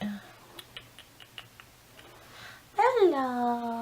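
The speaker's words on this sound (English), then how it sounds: "That's my cat." A male cat meows once, a clear rising-falling cry close by, following a spoken greeting and light tapping sounds in a quiet room.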